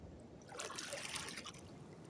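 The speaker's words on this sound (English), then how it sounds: "And the water. The current here is very strong." A strong river current rushes and trickles steadily outdoors in a natural setting, a faint continuous wash of water with no voices.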